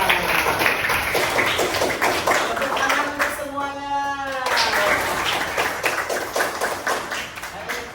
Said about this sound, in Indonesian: Tepuk tangan untuk ketua kelas kita